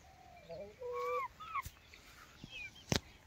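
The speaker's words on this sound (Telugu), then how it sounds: "ఈ పుంజులు అయితే పందెం కోళ్ళండి." Fighting-breed roosters and hens on a farm cluck and crow softly nearby, several short calls overlapping, with a sharp knock near the end.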